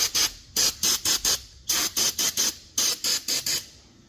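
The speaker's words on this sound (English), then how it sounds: "We'll spray all this down." Cleaner sprayed onto the brakes of a 2017 Ford Explorer during a brake job, heard as three close bursts of short, hissing trigger pulls, each burst made of four or five quick sprays with brief gaps between.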